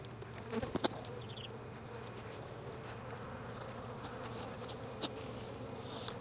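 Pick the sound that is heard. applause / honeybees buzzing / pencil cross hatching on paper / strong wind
honeybees buzzing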